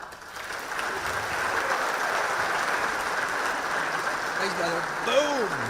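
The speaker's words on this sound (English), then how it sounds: "give another round of applause for Bitfinex as one of the sponsors here today" Sustained audience applause at a Bitcoin conference stage, a steady broad wash of clapping that holds for several seconds and tapers slightly near the end, with a voice briefly audible over it.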